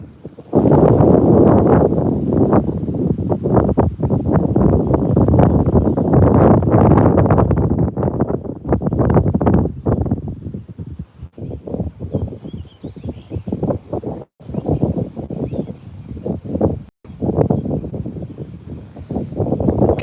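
Strong gusting wind buffets the microphone outdoors while fishing, loud and continuous at first, then easing into choppier bursts with brief dropouts.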